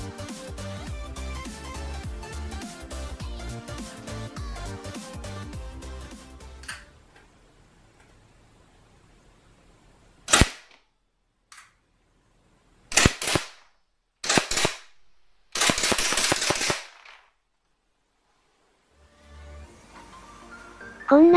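A gas blowback Glock toy pistol fitted into a cheap Chinese carbine kit fires in a handful of sharp, separate cracks with short follow-up bursts and pauses between them. Louder music plays first, then the shots come clearly against near silence.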